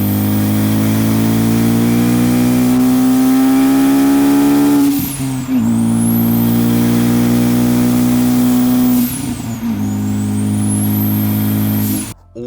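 Turbocharged Ford Focus ST engine revving hard and holding high rpm, dropping briefly twice with a sharp turbo whistle and flutter between pulls, loud and close with no voices.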